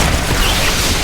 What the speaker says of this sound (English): with the detonation of a box of UV grenades, a powerful light wave filled the tunnel.